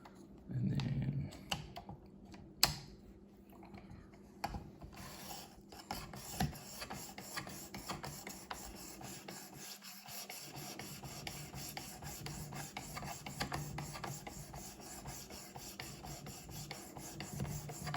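A knife blade polished on a ceramic rod of a Work Sharp Precision Sharpener, giving steady, soft rubbing strokes close by that run continuously with small irregular scrapes and ticks.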